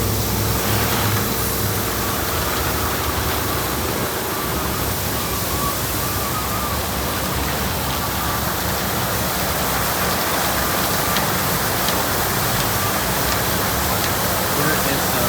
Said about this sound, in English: There is a wheel brush running.